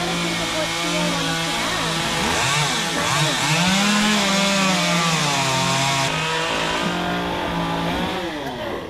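Chainsaw cutting into a tree, a loud, continuous engine whine that rises and dips in pitch as the blade bites, close by and steady for the whole stretch.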